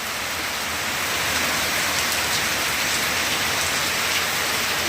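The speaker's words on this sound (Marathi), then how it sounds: "काल जसा पाऊस पडला तसाच आज पाऊस आहे" Steady, dense rain pouring down close by, a continuous hiss without pauses or voices.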